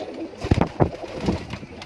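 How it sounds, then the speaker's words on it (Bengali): Pet pigeons coo nearby, with a few low, throaty rolling calls in a loose rhythm, clear and close with no talking. "সেই দুটা কবুতর আজকে আমি আপনাদেরকে দেখাবো।"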